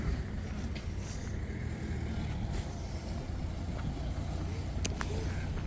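Cars rolling in to a flea market before dawn, a steady low hum of engines and tyres near and far, with faint voices in the background.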